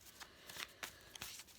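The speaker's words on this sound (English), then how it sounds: "I'm just going to give pile 1's cards a bit of a shuffle" Tarot cards being shuffled in short papery riffling bursts, several quick flurries over about a second and a half, close and fairly quiet with no talking.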